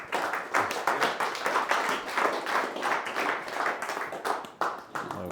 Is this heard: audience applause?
yes